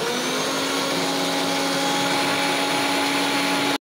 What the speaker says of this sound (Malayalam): സെപ്പറേറ്റ് അര കപ്പ് പഞ്ചസാരയും കൂടെ നല്ല സ്പീഡിൽ തന്നെ അടിക്കും.